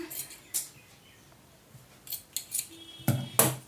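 Tailor's scissors snip through blouse fabric in short, crisp cuts spaced irregularly, close and fairly quiet, with a quicker cluster of snips near the end and no talking.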